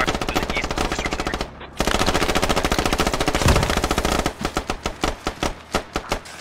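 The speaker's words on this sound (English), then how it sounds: "We're taking heavy fire to the east of the coast." Heavy automatic gunfire in a video game, dense rapid bursts of machine-gun shots rattling continuously at close range, then breaking into separate spaced rounds near the end, with no talking.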